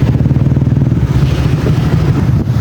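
Honda Wave Alpha motorcycle engine idling and running close by, a loud, steady low putter with a regular pulsing rhythm throughout, no talk over it.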